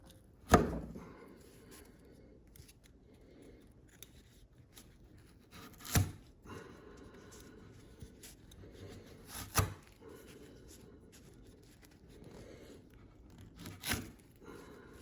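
A Civivi Brazen drop point pocket knife sawing at a heavy duty recovery strap, heard as four sharp cutting snaps spaced several seconds apart over a quiet, faintly scraping background.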